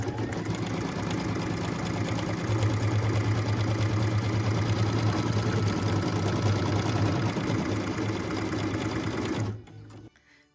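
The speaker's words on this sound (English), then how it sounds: "Machine step 7 is stitching the snow globe placement line" An embroidery sewing machine stitches the placement line in oyster-coloured thread with a loud, steady, rapid mechanical whir and clatter. The noise runs continuously, then cuts off abruptly near the end.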